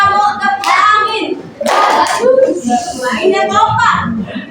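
In an Indonesian classroom, children play a clapping game with a mosquito clap and a wind clap, and their hand claps mix with an adult voice and children talking.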